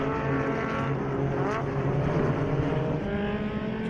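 Race cars lapping a circuit during a regional extreme festival racing round, with loud, continuous engine roar and a passing rise and fall as cars sweep by, no talking.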